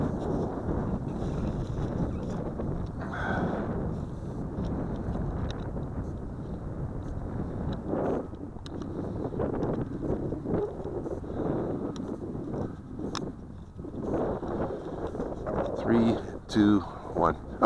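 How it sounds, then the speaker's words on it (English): A light wind of about 4 or 5 knots blows outdoors, buffeting the microphone as a steady rushing noise with gusts, while a person talks over it. "We do have about a 4 or 5 knot wind here, as you can see there."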